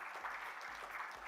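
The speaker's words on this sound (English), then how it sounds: "Let's give him a big round of applause" Faint, distant applause from a conference audience welcoming a guest onto the stage, a soft continuous patter of clapping with no talk.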